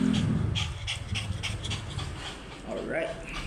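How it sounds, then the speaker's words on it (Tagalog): A small Shih Tzu pants close to the microphone in quick, rhythmic breaths while voices talk nearby. "Hingal aso ka ngayon."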